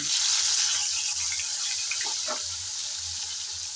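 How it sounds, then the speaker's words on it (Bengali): Small sea mola fish, rubbed with salt, a little chili and turmeric, frying in hot oil on a stove, giving a steady, fairly loud sizzling hiss throughout with no talking. "তেল গরম হয়ে যাওয়ার পর আমি মাছগুলো ভেজে নিচ্ছি"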